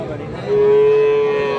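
A heifer calf gives a loud, sustained moo that holds one steady tone for about a second over a noisy outdoor cattle-market background.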